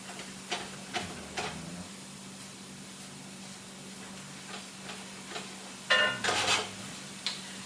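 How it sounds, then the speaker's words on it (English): A spoon stirs food in a cooking pot in a home kitchen, making a few soft scraping clinks early on and a brighter cluster of metallic clatter near the end over a low steady hum. "I'm going to give all of that a stir."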